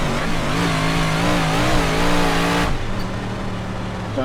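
A big block modified race car engine at Volusia in iRacing howls loudly with wavering pitch, then the note drops abruptly and settles into a lower, steadier drone.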